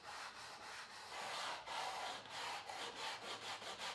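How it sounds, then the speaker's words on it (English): Sandpaper glued to a wooden block rubs back and forth across a planed wood surface in steady, rhythmic strokes, each a close, raspy swish repeating roughly every quarter to half second. "gluing sandpaper to a piece of wood avoids unintentional rounding of the inner edges"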